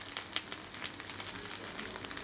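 A Bangalore-style sponge dosa cooking on its second side on a pan, with a faint, even frying crackle and light pops, soft and close, no voices.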